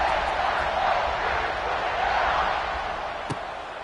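A stadium crowd roaring before kickoff in the video game College Football 26, a steady dense wash of cheering that holds throughout, with a single sharp thud near the end.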